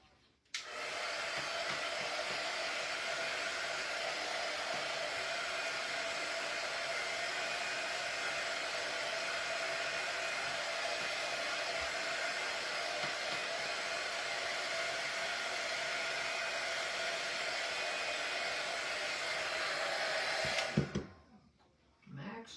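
A hair dryer blows on a freshly painted raven and pumpkin craft piece, a steady close whooshing roar that runs unbroken for about twenty seconds before clicking off.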